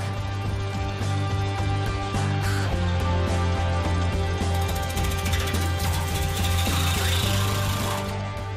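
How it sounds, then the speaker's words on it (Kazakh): Rotary power tool shaving the surface of wood during traditional woodcarving, a constant loud whirring motor hum with gritty scraping bursts as the cutter bites the wood, steady and close throughout. "Бұл құрылғының қатты айналғанын көріп, басында жүрексініп едім."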